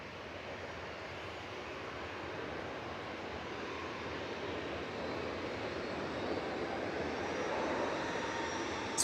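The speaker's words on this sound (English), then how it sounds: "So TUI to Lanzarote is lined up here. This is GTAWU 737-800." A TUI Boeing 737-800 jet sits lined up on the runway at Manchester Airport, its engines giving a faint, distant, steady roar that slowly builds in loudness.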